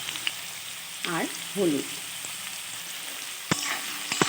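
Potato pieces frying in oil for a basmati rice muri ghonto give a steady soft sizzle throughout, with a few brief scrapes and a short spoken phrase over it.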